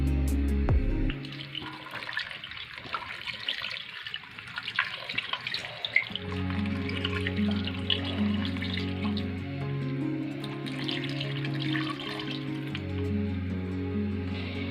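Water pours into a cooking pot of turnip and meat curry, a continuous splashing stream that runs steadily throughout with no talking.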